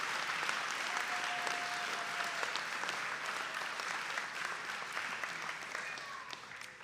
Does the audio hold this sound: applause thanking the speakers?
yes